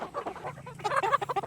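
Chickens cluck and chatter close by at a small backyard poultry farm, a rapid run of busy calls that grows louder and more excited partway through.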